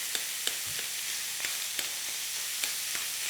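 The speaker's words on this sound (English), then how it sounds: "Pork goes in, nice sizzle there." Pork sizzles in hot oil in a frying pan, a steady bright hiss with occasional sharp pops and crackles, close and continuous with no talking.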